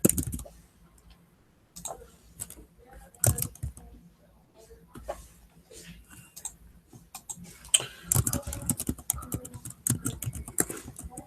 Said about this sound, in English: Keep typing on the wrong keyboard.